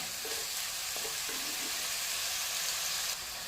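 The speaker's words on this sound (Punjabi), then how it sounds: "ਪਹਿਲਾਂ ਪਿਆਜ਼ਾਂ ਨੂੰ ਦੋ ਤੋਂ ਕੁ ਮਿੰਟ ਇਹਨਾਂ ਨੂੰ ਪਕਾਉਣਾ ਹੈ" Onions sizzle steadily in hot oil in a kadai for a black chickpea tempering, a dense crackling hiss with a few soft stirring scrapes, close and continuous.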